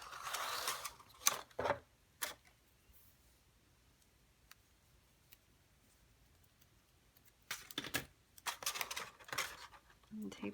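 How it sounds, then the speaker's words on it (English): A paper gift treat bag is taped shut, with crinkly tearing and pulling bursts of tape and paper handling at the start and end, quiet in between. "And I'm just gonna tape this"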